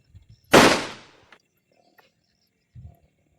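A single sharp gunshot in a film scene, one loud close bang with a short decaying tail, followed by quiet and a few faint thuds.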